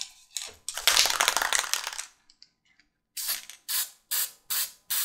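Semi-gloss lacquer sprayed from an aerosol can onto laid-out brass hardware comes in one long hissing burst, then after a pause several short, evenly spaced sprays, close and fairly loud.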